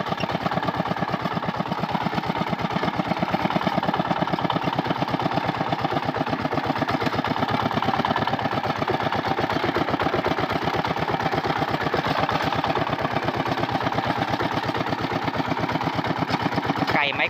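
Small walk-behind plowing tractor engine running steadily in a field, a loud continuous mid-pitched chugging drone with fast regular pulses throughout, no pauses or talk.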